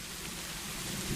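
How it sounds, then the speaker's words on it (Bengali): Steady rain falling on an open potato field, a continuous broadband hiss with low rumbling beneath it, constant and fairly close throughout. "এদিকে বৃষ্টি হচ্ছে"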